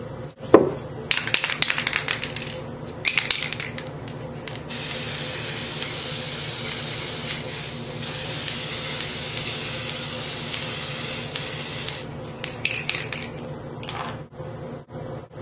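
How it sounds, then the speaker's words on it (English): Pink spray paint hisses from an aerosol can onto a decor piece in a steady, close spray lasting several seconds, framed by shorter bursts before and after. "So I'm just gonna spray paint it again pink,"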